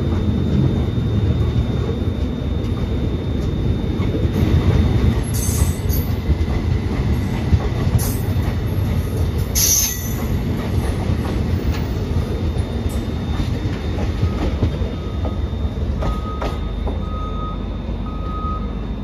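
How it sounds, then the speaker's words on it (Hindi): Nandigram Express, the Mumbai–Adilabad train, rolls past at Daulatabad railway station, a loud continuous rumble of wheels and carriages with brief high squeals and a steady tone, heard close for nearly twenty seconds without talk. "तो दोस्तों ये रही मुंबई आदिलाबाद नंदीग्राम एक्सप्रेस जिसको दौलताबाद रेलवे स्टेशन पे क्रॉसिंग दिया गया है"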